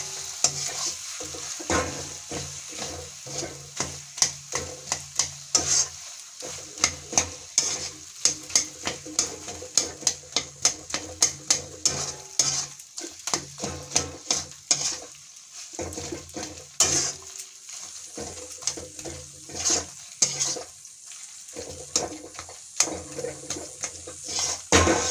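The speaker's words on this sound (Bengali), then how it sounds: "সবজিগুলো ভালো করে ম্যাশ করে দেবো, দিয়ে ভালো করে কষে নেব।" Mashed vegetables for pav bhaji being stirred and fried in a pan, with repeated scraping and stirring strokes in an uneven rhythm over a continuous close sizzle, and occasional clinks of utensil against the pan.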